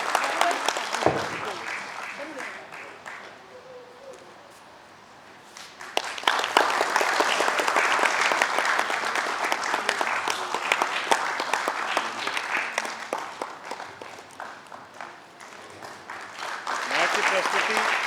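An audience at a Hindi theatre festival evening after the play 'Parsai Uvach' applauds during an honouring ceremony: clapping that eases off, then swells into long, loud, sustained applause, fades, and builds again, with voices speaking at times.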